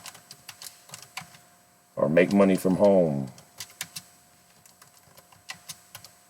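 Rapid, irregular keyboard clicks tapping away, pausing briefly while a person speaks, then resuming in quick bursts.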